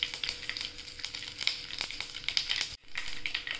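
Whole spices crackle in hot oil with mustard seeds as a bay leaf goes in for a spiced curd-and-potato bhaji, a close, steady sizzle with sharp popping bursts and a brief quiet dip near the end.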